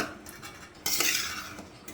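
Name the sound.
stirring rice with sesame oil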